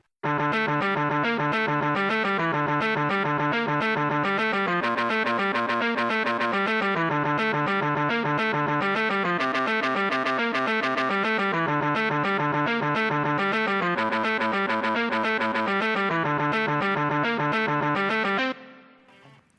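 Distorted electric guitar plays a sustained harmony line with effects and a touch of chorus, loud and continuous for about eighteen seconds before stopping abruptly.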